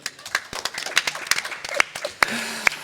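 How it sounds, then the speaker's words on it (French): Sparse, scattered clapping from a small audience welcoming a guest, Audrey, at a cultural event in the Espace Baudelaire, with a few louder individual claps standing out. "On peut l'applaudir."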